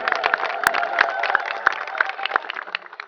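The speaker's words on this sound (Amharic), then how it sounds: "እስቲ ለጌታ ክብር አጨብጭቡለት።" A church congregation at a baptism service claps together in a fast, steady rhythm. Loud, sharp handclaps land at even intervals, with a faint murmur of the crowd beneath.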